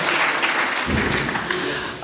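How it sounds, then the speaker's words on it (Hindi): Audience applause for a guest honoured at an Urdu literary book launch and mushaira, a broad steady wash of clapping from a seated crowd that swells after the first moment and holds at a loud level throughout. "आबिद अली बेग साहब के लिए एक दफ़ा तो भरपूर तालियाँ होनी चाहिए"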